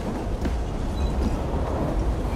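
Steam-era train locomotive in the Assassin's Creed Syndicate video game, a loud, steady rumble of rolling wagons with faint rhythmic clatter throughout the short stretch, with no voices.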